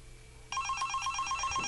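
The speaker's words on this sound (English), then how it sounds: "It says you have one call from home." An iPod Touch rings with an incoming Google Voice call, a steady repeating electronic telephone-style ringtone that starts abruptly and continues loudly, close by with no talking.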